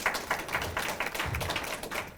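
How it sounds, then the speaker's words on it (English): An audience applauding a speaker at a senior expo, a short burst of dense, rhythmic clapping at steady loudness with no voices over it. "Let's give Arlene another round of applause."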